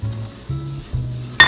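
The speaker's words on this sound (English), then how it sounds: "I'm just going to add it all in here and whisk together until the butter" Whisk scraping through flour and melted butter in a pan, three rhythmic strokes with soft sizzling, ending in a bright metallic clink against the pan.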